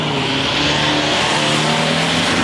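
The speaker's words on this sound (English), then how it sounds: "Getting a lot of traffic." Road traffic passes on the street outside a bank in Long Grove: car engines hum and swell close by, with tire noise layered in a steady stream.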